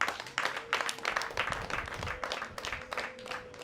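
Applause from a gathered audience, a brief, dense patter of many hands clapping together, heard moderately faint and continuous throughout.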